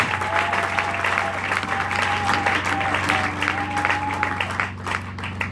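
A church congregation claps and cheers in praise during a French-language sermon, producing steady, dense applause that holds evenly throughout, with a sustained tone running underneath.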